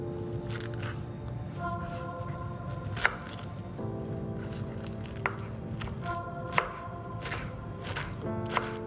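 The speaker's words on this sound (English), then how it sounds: "Let's start with chopping cilantro." A few sharp, sparse knife taps on a cutting board while chopping cilantro, spaced a couple of seconds apart, over a steady background hum.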